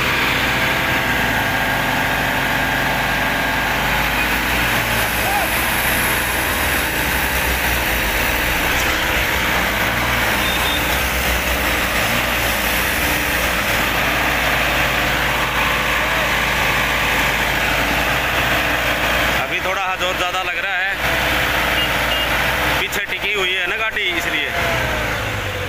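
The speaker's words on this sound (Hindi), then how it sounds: "वजन ज्यादा है, क्रेन भी आगे ना खिसक रही है।" A crane's engine runs steadily under heavy load while it tries to tow a weighed-down truck on the Hansi–Barwala road, with a continuous loud drone and brief dips near the end; people talk over it.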